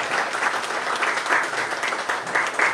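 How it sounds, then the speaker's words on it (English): An audience applauds at a Nepali event honouring a senior Kantipur journalist, steady sustained clapping from a crowd filling the whole stretch without voices. "Please give him a big round of applause."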